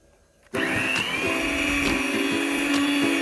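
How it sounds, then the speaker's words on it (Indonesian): Electric hand mixer starting up to beat margarine for a butter cake, switching on abruptly after a quiet moment, then a steady high motor whine with rhythmic beater knocks against the bowl, loud and close. "Setelah kita menaruh margarinnya, kemudian akan kita lanjut mixer."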